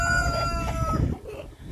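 A rooster crows in a muddy rooster yard where the birds are still fighting for dominance, one loud close crow that rises, holds and then trails off, with no talking.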